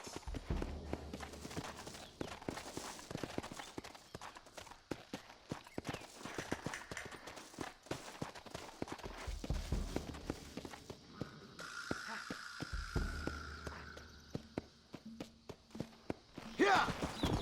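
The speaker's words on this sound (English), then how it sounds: "Looks like Carlos left us some horses." Horses gallop in the Red Dead Redemption video game, their hooves drumming in rapid, close clip-clop bursts that rise and fall, with a few thuds and game effects layered over the pounding.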